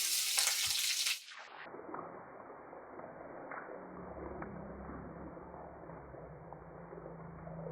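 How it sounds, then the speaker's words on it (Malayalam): Crushed ginger and garlic hit hot oil with a loud sizzle that quickly settles into a steady, softer crackle of frying. "എണ്ണ തിളച്ചിനി ഇഞ്ചിയും വെളുത്തുള്ളി ചതച്ചിട്ട് കൊടുക്കട്ടെ"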